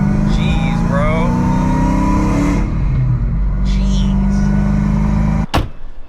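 Car engine rumbling and revving nearby as it pulls up to an auto upholstery shop in El Sobrante, then quieting, with a sharp thud like a door near the end.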